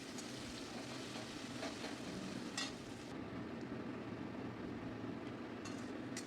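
Two fairly large onions fry in a pan while being stirred, giving a faint, steady sizzle with soft scraping that runs throughout without pause.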